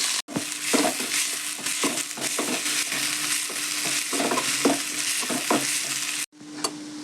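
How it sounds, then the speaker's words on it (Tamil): Onions fry in a little oil in a pan with a dense, continuous sizzle and frequent stirring scrapes, loud and close, before the sound cuts off abruptly near the end. "இப்போ கொஞ்சமாக எண்ணெய் ஊற்றிக்கலாம் வெங்காயம் போட்டுக்கலாம்"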